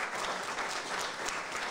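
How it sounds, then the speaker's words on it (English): Audience at a winery songwriter round applauding their visiting sound engineer, a steady wash of clapping that holds evenly through the short stretch with no voices over it. "please clap one more time for my friend Amanda"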